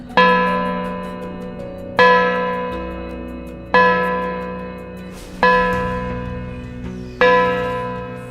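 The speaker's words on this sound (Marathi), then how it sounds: "लगेच जोरात घंटेचा आवाज आला" Loud, resonant clock-tower bell strokes repeat about every two seconds, five in all, each with a long shimmering decay, no voices present.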